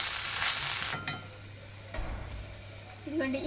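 Grated coconut frying and being stirred in a pan: a steady close sizzle broken by a few scrapes of the spoon against the metal, with a brief voice near the end.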